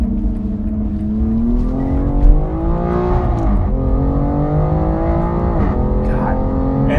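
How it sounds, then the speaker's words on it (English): BMW X3 M engine revving loudly from inside the car, a sustained aggressive roar rising and falling in pitch with continuous road noise underneath. "Damn, this car is loud."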